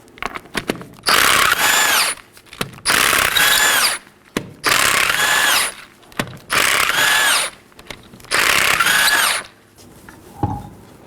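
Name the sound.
tool removing 19mm lug nuts from Chevrolet Equinox wheel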